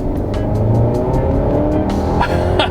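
A 2021 Kia Sorento EX Turbo AWD with a 2.5-liter turbo engine and 8-speed dual-clutch automatic accelerates at full throttle, a loud rising engine drone heard from inside the cabin, with a brief shift in tone near the end.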